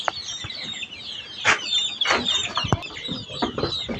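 White broiler chickens cluck and chatter on a small farm, with several soft overlapping calls and a few sharper clucks at close range amid light rustling.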